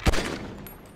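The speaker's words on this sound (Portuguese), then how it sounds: "tô dando tiro nesses mísseis" A single sharp gunshot-like blast in GTA 5, fired at missiles, with a short echoing tail, fairly faint and alone.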